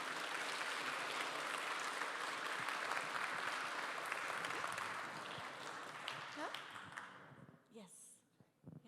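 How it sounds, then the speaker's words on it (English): Conference audience at the 2024 TESSA National Storm Conference clapping for a speaker, a dense, steady round of applause that thins and fades toward the end, with a few voices near the close. "let's give a hand of applause for Greg Stumpf"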